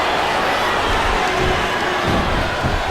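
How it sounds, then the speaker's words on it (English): A steady, dense arena crowd cheers in the wrestling video game WWE SmackDown vs Raw 2007, a continuous roar with no clear breaks. "Listen to the crowd, JR."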